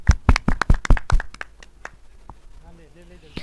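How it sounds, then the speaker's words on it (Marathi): A short burst of sharp, quick handclaps rings out for Ashish Bhau Deshmukh at the Katol Chashak 2025 cricket match between MV Stars and Brothers XI. The claps fade within about a second, leaving quieter background voices. "त्यांच्यासाठी एकदा जोरदार टाळ्या होऊन जाऊयात"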